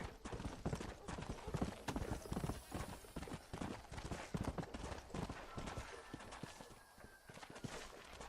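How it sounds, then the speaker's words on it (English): Horse hooves clip-clop steadily in Red Dead Redemption as wild horses move about nearby, the dense rhythmic hoofbeats loud and continuous with an occasional faint whinny and a voice speaking briefly under them. "Excuse me, wild horsies."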